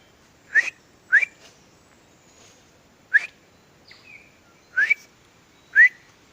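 Five short, bright bird calls, each a quick rising chirp, spaced irregularly over a quiet background with faint rustling.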